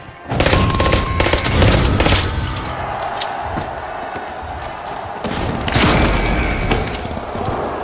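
A frag grenade goes off in The Finals during a ranked tournament match: heavy booms and rumbling blasts mixed with bursts of gunfire, loud at first and swelling again later, while a commentator talks throughout.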